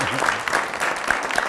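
Audience applause for a guest on a French talk show, a short burst of clapping with a voice speaking over it.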